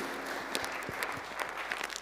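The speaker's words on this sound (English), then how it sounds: "Round of applause to everybody for the rice and for the eggs." Congregation applauding at an Easter Sunday church service, a steady patter of scattered claps filling the room with a few sharper hand strikes standing out, moderately loud and continuous throughout.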